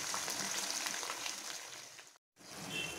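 Prawns sizzling in a pan with ginger garlic paste, a steady close frying hiss with a brief drop-out near the end.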